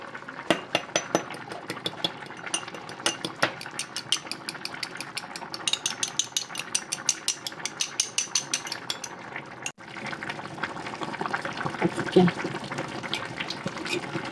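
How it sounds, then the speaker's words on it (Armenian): Greens boiling in a pot as they are stirred, with a rapid series of sharp clicks and taps for about ten seconds, then a steadier bubbling hiss, and a voice speaking intermittently. "եռը գալիս է, եռում է"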